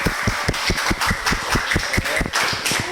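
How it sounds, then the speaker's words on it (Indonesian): A classroom group claps in applause for a student, a dense fast patter of many hands clapping steadily and fairly close for a few seconds with no talking over it. "Tepuk tangan."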